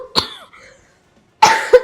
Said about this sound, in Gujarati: ઉધરસ છે તો